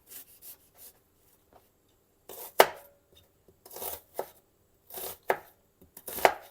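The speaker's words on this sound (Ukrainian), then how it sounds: "Ну, і нарізати буду цибульку я." A knife chops an onion on a cutting board in short, uneven bursts of crisp strokes separated by pauses, close and fairly clear.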